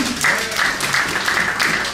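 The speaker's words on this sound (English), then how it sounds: "Kathy, let's get a big round of applause for our friend Kathy." A comedy mind-reading show audience claps steadily throughout, a dense wash of hand claps with no voices.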